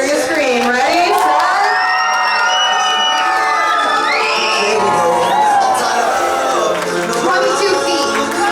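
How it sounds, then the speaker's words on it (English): A dog show crowd cheers and screams loudly and continuously for the Labrador Retriever team, with children's shouts and whoops rising above the roar. "Labrador Retrievers, let's hear you scream."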